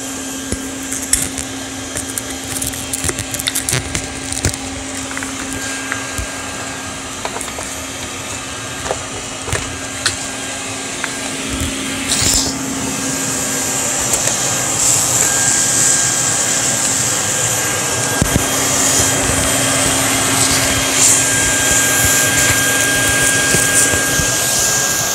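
A Filter Queen vacuum cleaner fitted with a soft pad floor brush head runs steadily and fairly loud, a continuous whirring drone with a low motor hum, brief clunks and a slight rise in level partway through.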